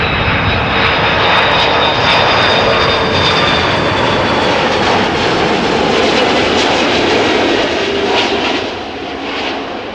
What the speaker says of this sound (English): This Airbus is 11 years old, had its first flight in February 2012.